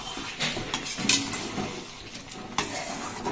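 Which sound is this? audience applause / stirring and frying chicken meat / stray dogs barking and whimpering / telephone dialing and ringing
stirring and frying chicken meat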